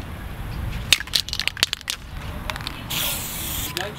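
Spray can painting freehand flames onto a motorcycle side panel, with short hissing bursts and a longer steady spray near the end, all close and fairly quiet over a low background rumble.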